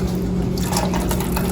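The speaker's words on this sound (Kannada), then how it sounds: "ನಾನಿಲ್ಲೊಂದು 2 ಕಪ್ ಅಷ್ಟು ನೀರು ಹಾಕಿದ್ದೀನಿ" About two cups of water poured into a cooking pot for sweet corn soup, a steady close gurgling and splashing stream that runs the full length with a faint hum underneath.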